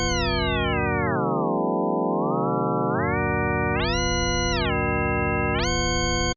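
Atonal, detuned synth patch built in Serum: a thick, buzzy harmonic tone sweeps its pitch down, then up, then jumps between levels, loud and sustained without a break before cutting off abruptly.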